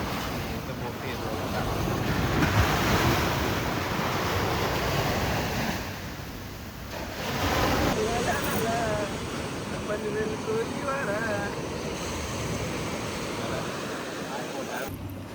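Surf washes onto Crystal Beach on Nusa Penida in two or three broad swells, mixed with gusty wind buffeting the microphone, with a hint of distant boat activity and faint voices.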